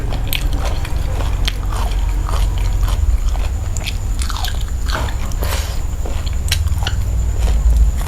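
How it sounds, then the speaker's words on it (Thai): Close, loud chewing of crunchy, sour Thai beef-skin salad eaten by hand with rice: repeated wet crunches and bites in a steady rhythm, with no talking. "เคี้ยวแล้วก็ไม่โดนแล้วสักที"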